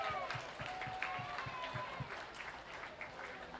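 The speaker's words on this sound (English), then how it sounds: "Let's give this heifer and this young lady a big round of applause." Applause from a crowd at the Dunn County Fair beef cattle show ring, for a heifer and its young exhibitor, a steady wash of clapping heard at moderate distance throughout.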